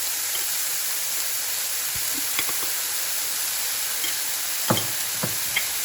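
Mushrooms frying with a few spoonfuls of flour being stirred in, giving a steady broad sizzle with occasional soft scrapes and clicks from the spoon, close and alone.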